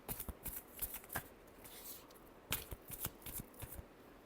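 Tarot cards shuffled in a final riffle before a reading, giving soft papery flutters and quick taps in bursts, near and quiet, with a louder flurry midway through.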